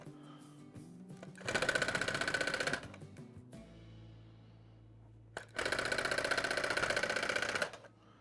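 A tufting gun punches yarn into a rug backing in two sustained bursts of rapid, buzzing mechanical chatter, each lasting a second or two, with a quieter gap between them.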